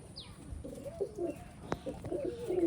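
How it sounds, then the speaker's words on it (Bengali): Racing pigeons perched on a wire at a pigeon farm give soft, faint, low coos, with a brief high chirp early on and a sharp tap in the middle. "তারে বসে আছে সকল কবুতর"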